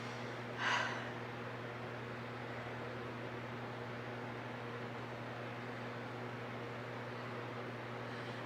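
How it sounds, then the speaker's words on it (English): Electric fan running indoors as a steady, low background hum with a constant whooshing airflow throughout, plus one brief breathy noise near the start and no speech. "I had to turn the fan on"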